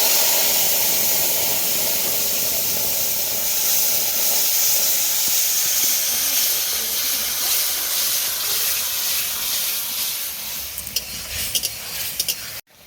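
Dried red chilies, bay leaf and mustard seeds tempering in hot oil for a wood apple chutney produce a strong, steady hissing sizzle that runs unbroken, then breaks into a few sharp crackles and clicks near the end, with no speech.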